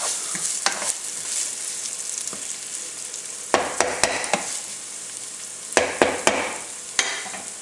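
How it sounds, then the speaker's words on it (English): Onions sizzling as they sauté in a pan for marinara sauce, a steady close frying hiss punctuated by sharp scraping and clattering stirs clustered in the second half, with no talking. "So our onions have been sauteing for about 5 minutes"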